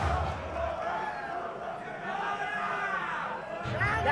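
Crowd at the Evo 2014 BlazBlue: Chronophantasma Top 8 fighting game tournament, a steady roar of cheering and chanting fans throughout, with a commentator talking over it.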